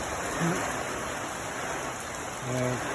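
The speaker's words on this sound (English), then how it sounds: "just dropping down some good old wet rain" Rain falls outdoors in California as a steady, even hiss of drops, fairly faint, with a few short tonal sounds on top.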